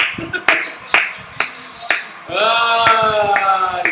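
Five sharp claps spaced about half a second apart, followed by a sustained bright tone with a clear harmonic stack, fairly loud and close.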